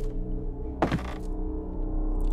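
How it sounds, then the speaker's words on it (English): Plates and forks clattering to the floor in a horror-style video game, a short burst of crashing and rattling about a second long over a steady low ambient drone. "he just dropped all the plates and forks"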